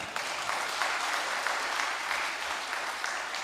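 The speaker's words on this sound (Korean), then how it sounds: "박수 주시기 바랍니다." A church congregation applauds during a New Year revival service, a dense, steady wash of many hands clapping at moderate distance that holds evenly throughout.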